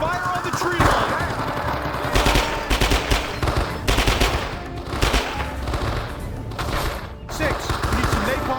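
Heavy gunfire from a Vietnam War battle at a tree line in the Men of Valor video game, with dense bursts of machine gun and rifle fire loud and close, continuing almost without a break while voices shout beneath.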